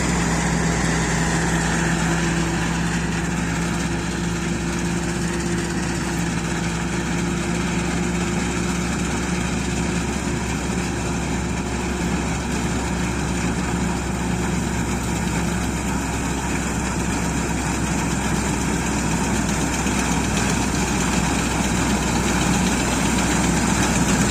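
A combine harvester threshing tall oats drones continuously at a steady, loud level, with a constant mechanical rumble and vibration throughout.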